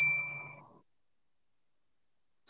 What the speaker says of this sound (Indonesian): Terus ikuti irama bel ini.